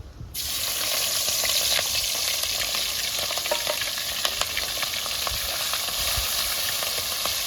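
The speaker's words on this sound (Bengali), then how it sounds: "আমার তেলটা গরম হয়ে গেছে আমি চিংড়ি মাছ কটা ভেজে নেব" Prawns hiss and sizzle in hot mustard oil in a pan, a steady bright frying crackle with occasional pops, close and continuous with no talking.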